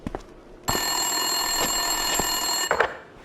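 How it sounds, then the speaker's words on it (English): Desk telephone ringing in the video game Max Payne 2, a loud sustained electronic bell tone that starts abruptly after a few soft knocks and cuts off near the end. "Winterson's phone was ringing."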